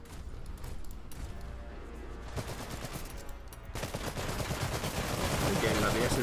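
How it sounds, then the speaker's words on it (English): Rapid SMG bursts and mixed battlefield gunfire in the real-time strategy game Iron Harvest crackle through a dense, continuous din that builds louder toward the end, with no clear speech over it. "like the SMG fire is doing a lot"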